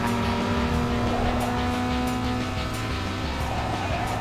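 A race car in Need for Speed Underground 2 roars under nitrous boost, its engine a loud, continuous, close-up drone that holds steady throughout.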